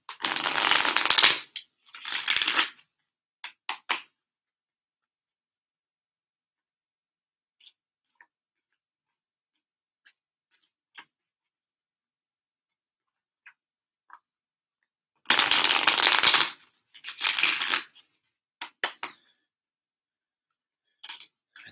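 Tarot cards being shuffled by hand come in two loud, rustling bursts a few seconds long, separated by a long near-silent gap with only faint scattered taps and clicks, close up and with no voices.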